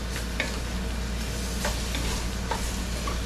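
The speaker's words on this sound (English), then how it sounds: "We're just gonna stir them onions in there good." Two and a half chopped onions stirred in a pot for a Cajun catfish stew, a soft steady sizzle with faint scraping stirs at a few points, continuous and close, with no voices.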